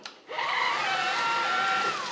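A Dreame Z10 Station cordless vacuum with its motorized brush running on carpet starts up and settles into a loud, steady high whine with a tonal hum, close by and uninterrupted, with no talk.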